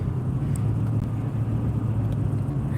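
Steady road traffic rumbles past with a continuous low engine drone and tyre noise, moderately loud and close, with no talking over it.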